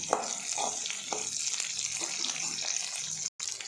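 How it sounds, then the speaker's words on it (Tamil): Small shallots sauté in hot oil in a pan for a Tamil anchovy fish curry, a steady close sizzle with light stirring scrapes and no speech. "அப்புறமா சின்ன வெங்காயம் தேவைக்கேற்ப, நல்லா வதக்கி விடணும்."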